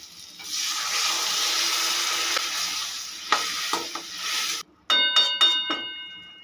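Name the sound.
pouring a cup of water into potatoes and spices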